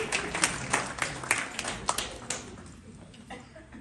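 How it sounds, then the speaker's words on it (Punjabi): Audience clapping for the wives at a comedy show of election jokes, a burst of many hands applauding together that swells briefly and then fades out. "ਪਤਨੀਆਂ ਵਾਸਤੇ ਜ਼ੋਰਦਾਰ ਤਾਲੀਆਂ ਵਾਸਤੇ"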